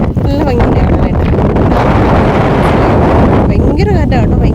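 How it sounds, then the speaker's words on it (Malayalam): Strong wind buffeting a handheld microphone outdoors near a church, a loud, continuous roaring rumble throughout, with someone talking over it at the start and end. "ഭയങ്കര കാറ്റാണ് കേട്ടോ, ഭയങ്കര കാറ്റ്. സൗണ്ടായിരിക്കും ഭയങ്കര."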